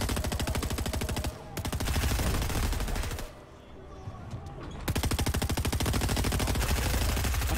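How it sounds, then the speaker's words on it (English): Dense bursts of rapid automatic gunfire from a Fortnite no-build quads match, loud and continuous with a brief lull before the shooting resumes, no talking. "Oh yeah, right here, shooting at each other."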